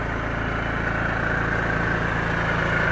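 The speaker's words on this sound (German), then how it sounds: "Motor läuft" A 2004 Mercedes-Benz Vito van's 150 hp diesel engine idles steadily nearby with the hood open, a constant low rumble with a fine rhythmic clatter that never changes pace.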